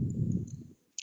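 A computer mouse gives a single crisp click near the end, after a soft low rumble.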